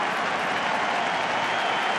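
A large World Series baseball crowd applauds pitcher John Lackey, a dense, steady wash of clapping and cheering that carries evenly through the whole moment.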